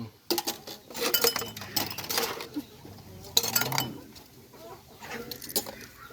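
Cups, cutlery and dishes are washed by hand at an evening wash-up, with scattered clinks and clatters of crockery and utensils coming close and fairly loud, mixed with water noise and some faint background sounds.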